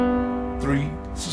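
A sustained 4-3 suspension chord rings throughout, close and fairly loud, with a person speaking briefly over it partway through.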